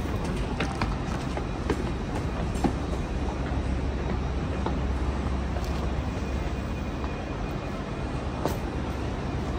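An LNER passenger train rolls into Edinburgh Waverley station, heard from inside as a steady, loud rumble with occasional light clicks of wheels over rail joints.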